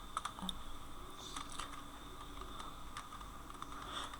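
Faint, close typing on a computer keyboard, scattered soft key clicks over a steady background hiss, with no voices.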